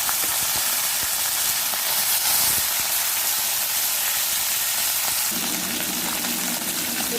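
Small fish fry in hot mustard oil for a curry, giving a loud, steady, hissing sizzle that runs unbroken the whole way through, with no talking.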